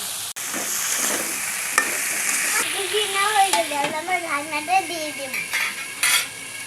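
Potatoes go into a pan of fried fish masala. Broadband frying hiss and stirring scrapes and clatter fill the pan, with a child and an adult talking over the cooking.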